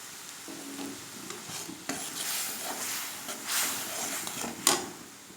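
Drumsticks and lentils with turmeric, cumin, coriander, red chilli powder and salt are stirred in a pan, giving soft scraping and light sizzling with a couple of sharper utensil knocks near the end.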